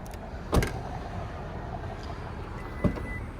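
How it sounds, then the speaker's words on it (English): Power tailgate on a 2024 Honda CR-V Sport-L opening, with two short mechanical clunks about two seconds apart, the latch release and then the gate stopping, over a steady low motor hum in a quiet setting. "you are going to see that that door is going to open"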